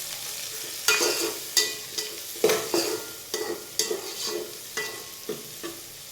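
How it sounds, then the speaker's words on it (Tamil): Tomatoes and onions cook in a pan for a mutton butter gravy, giving a steady frying sizzle broken by regular scraping stirs about once a second, close and moderately loud with no talking. "இந்த தக்காளி வெங்காயம்லாம் நல்லா குக் ஆகணும்"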